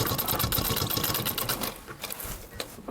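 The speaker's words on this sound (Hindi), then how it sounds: "यहाँ पर मैं मशीन हाथ से चला रहा हूँ" A tailor's sewing machine, its wheel turned by hand, stitches fabric with a dense, steady mechanical rattle that runs loud and continuous before easing off briefly toward the end.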